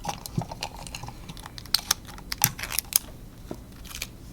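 Tape being pulled and pressed onto a homemade flashlight, a run of close, irregular crackly ticks and snaps with a few sharper bursts, no talking over it.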